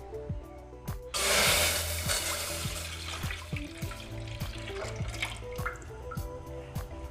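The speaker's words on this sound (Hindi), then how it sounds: "दूध ऐड करेंगे" Milk poured into a pan for fruit custard, a bright splashing burst around one second that settles into steady liquid hiss, under repeated soft ticking knocks, no speech.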